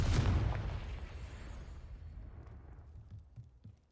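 A Confringo blasting spell bursts in Hogwarts Legacy with one loud, close explosion whose rumbling boom fades away over several seconds, with no voices.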